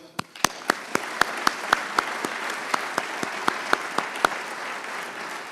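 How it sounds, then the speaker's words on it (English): Applause at an environmental leadership awards ceremony: sparse, distinct claps ring out at a steady rhythm, fairly close, over a soft crowd murmur. "Please help me in applauding the efforts, the leadership, and the stewardship of all of these individuals and organizations"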